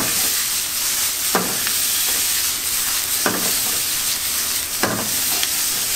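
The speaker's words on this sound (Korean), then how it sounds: "해물 요리는 사실 이렇게 여기서 많이 볶아주지 않아요. 짧게 볶아줘요." Seafood for yusanseul stir-fried in a wok, a loud continuous sizzle broken by three sharp scraping clanks of the spatula tossing the ingredients at roughly even intervals.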